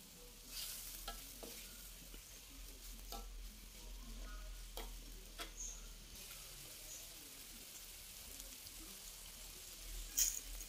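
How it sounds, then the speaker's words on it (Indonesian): Chicken is stirred in a pan with leftover chicken broth and spices, giving soft scraping strokes and a quiet, constant sizzle and bubble heard close up, with no talking. "tambahkan air sisa rebusan ayam untuk tambah kaldunya ya, supaya lebih nyampur lagi dengan bumbu dengan ayamnya"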